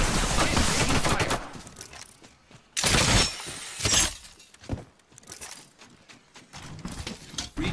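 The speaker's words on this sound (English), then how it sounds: "I'm taking fire." Dense gunfire and shattering impacts from the video game Apex Legends, loud rapid bursts with a sharp crash near the middle, followed by scattered quieter shots and effects.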